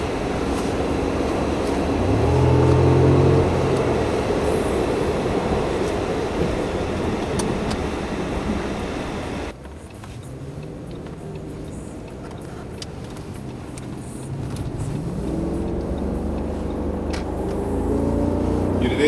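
An Audi S8 with a Lamborghini V10 engine drones steadily while driving, with a low rumble that dips abruptly midway then builds again as it accelerates.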